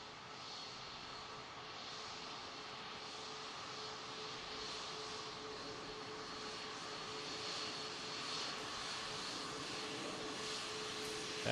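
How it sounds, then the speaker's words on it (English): Boeing 737 MAX 10 jet airliner in United livery at Boeing Field, a faint, steady distant engine roar that builds slightly over time, with no voices. "That is a big 737."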